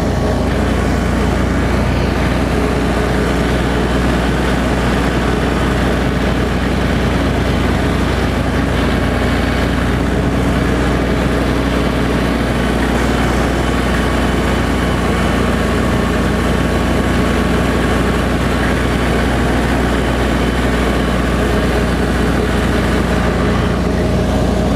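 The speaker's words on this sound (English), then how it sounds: "I was using the foot control. I want to get my RPMs about where it's 540 PTO" A tractor engine runs steadily at 540 PTO RPM, a loud continuous low drone that fills the whole stretch without any talking.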